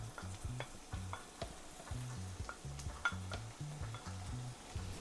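Garlic and scallion frying in a pot for Jamaican turkey neck stew, a steady hiss of sizzling oil with repeated scraping stirs and light clinks of a utensil against the pot.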